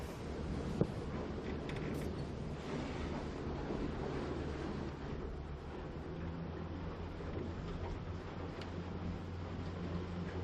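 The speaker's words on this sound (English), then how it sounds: "There's some nice sized waves coming, Blake" Ocean waves and gusting wind during a sailing championship race, a steady rushing wash with buffeting wind on the microphone and one brief knock, no voices.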